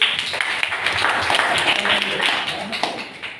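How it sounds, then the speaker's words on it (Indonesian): Audience applause after a group's presentation at a school event: dense, continuous clapping from many hands, steady and fairly loud throughout, with a few voices mixed in. "Bagus, kita kasih aplaus."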